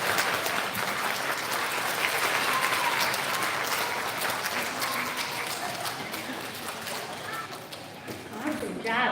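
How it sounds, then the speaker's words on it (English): A school audience at an elementary student recognition ceremony claps for first graders, dense, loud applause filling the room steadily and then tapering slightly near the end. "Can we have a big round of applause for our first graders?"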